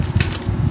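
Coins dropping onto a hard surface during a coin hunting session through Philippine coins, a few quick metallic clinks and a bright ring over a low rumbling background, close and fairly loud.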